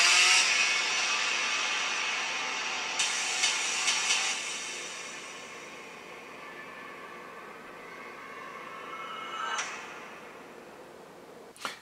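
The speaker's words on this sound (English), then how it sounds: "Chainsaw." A chainsaw in a Leatherface movie trailer revs loudly, then its roar fades and sputters into an idling drone with a couple of sharp bursts.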